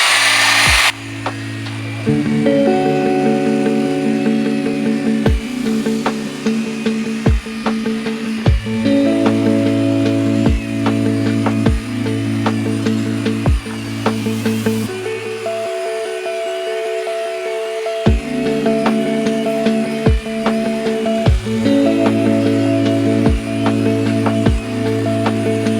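A Bauer polisher from Harbor Freight runs steadily on car paint on a Ford Focus ST, a loud continuous motor hum with a brief drop partway through before it spins back up, no voices over it.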